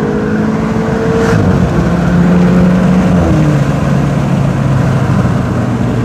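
A turbocharged Volkswagen Polo accelerates hard from inside the cabin, its engine note rising steadily and loudly through the gears with a faint turbo whistle.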